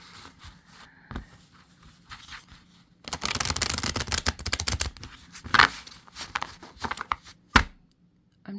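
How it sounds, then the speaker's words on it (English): Close, papery riffling and slapping of tarot cards being shuffled in a few bursts, with soft taps and pauses between; no talking. "Let's do 3 shuffles."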